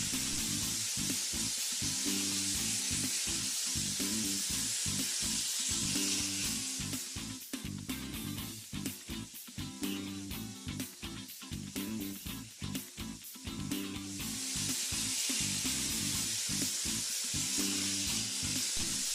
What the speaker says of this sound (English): Notice the blaster on the right using the Speed Blast Australian Garnet